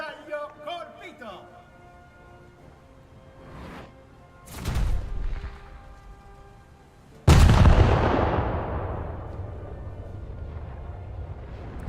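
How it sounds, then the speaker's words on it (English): A naval gun salvo booms out in a warship video game, a sudden heavy blast that rolls into a long, loud fading rumble, following an earlier smaller boom and quieter battle sounds. "Maybe that salvo will hit one of the turrets."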